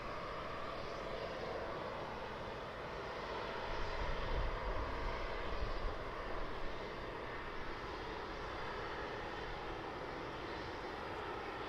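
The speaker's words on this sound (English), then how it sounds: "the Emirates 777 is just doing a left hand loop" An Emirates Boeing 777 airliner flies a left-hand loop near Birmingham Airport, its engines a steady distant roar that swells slightly in the middle and then settles, heard alone with no voices.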